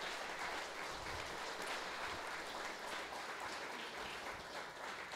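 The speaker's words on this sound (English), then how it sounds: "Let's give these gentlemen a good hand of round of applause" Members of a woodworkers' guild meeting give a round of applause, a continuous even wash of clapping, fairly quiet and distant throughout.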